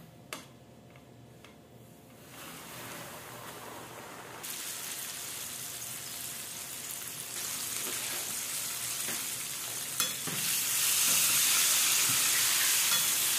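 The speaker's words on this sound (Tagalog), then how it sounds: "Fry natin yung ating ni-marinate." Marinated chicken wings fry in hot oil, a soft sizzle swelling into a loud, dense crackle that builds steadily, with a few ticking clicks early on and a sharp tap midway.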